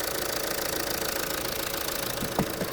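A 2013 Fiat Freemont with a 2.0-litre diesel engine, automatic and 4x4, idles close by with a steady, even clatter and faint rhythmic knock, plus a couple of soft bumps near the end.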